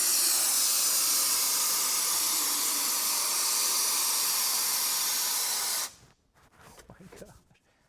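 Great Stuff Wide Spray foam can sprays in a loud, steady hiss that runs for about six seconds, then stops abruptly, leaving faint handling noises.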